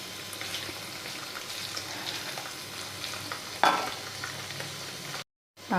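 Steady sizzling and frying of paneer in a pan, a constant crackle with a brief scrape of stirring partway through before a short drop to silence.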